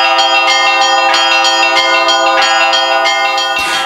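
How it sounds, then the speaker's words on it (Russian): Church bells ring loudly and repeatedly in overlapping, resonant peals, close and sustained throughout. "построили звонницу и теперь просыпаются под звук колоколов"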